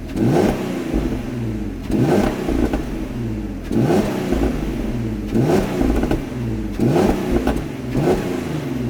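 An SUV engine revs repeatedly in short bursts, rising and falling in a steady rhythm, close and fairly loud with a throaty mechanical rumble.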